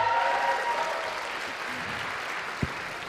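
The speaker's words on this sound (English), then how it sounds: "Can we have another round of applause for our panel?" Applause from the crowd at a student Pride event for a panel, a broad even wash of clapping that fades slightly, with a brief thump near the end.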